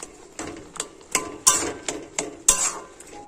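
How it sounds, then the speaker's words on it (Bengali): Taro leaves (kochu shak) being stirred and turned over repeatedly in a pan, heard as a series of about ten separate clanks and scrapes of a metal spatula against the pan at an uneven pace, close and without talk. "এই কচু শাক কিন্তু এইভাবে বারবার নাড়াচাড়া করতে হবে"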